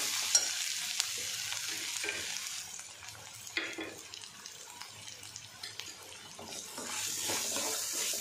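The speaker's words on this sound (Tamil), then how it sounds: "இப்போ வெங்காயம்லாம் நல்லா வதங்க ஆரம்பிச்சிருச்சு." Onions with ginger garlic paste and salt sautéing in a kadai for paneer masala, a continuous bright sizzle with scraping stirs and occasional spoon knocks, steady and close without talk.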